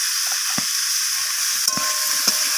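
Spinach frying with cumin powder and ginger paste while stirred in the pan, a constant bright sizzle with three or four soft spatula scrapes and knocks spaced apart.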